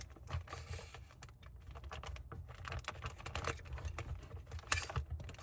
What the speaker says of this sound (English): I'll tape it right on the edge where it's rolled up, and I'll tape all the way around